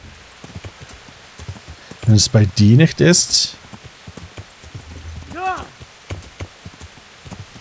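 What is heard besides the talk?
horse hooves clip-clopping, from a video game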